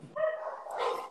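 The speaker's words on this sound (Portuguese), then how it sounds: "Ó, os cachorros aqui, subúrbio é assim, cachorro que não acaba mais." A dog in a suburban neighborhood gives a single short bark that trails into a whine, heard clearly and fairly close against a quiet background.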